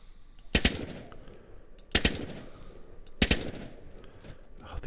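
Three loud M4 rifle shots or short bursts ring out in the game DayZ, evenly spaced about a second and a half apart over a low background hum, with no voices.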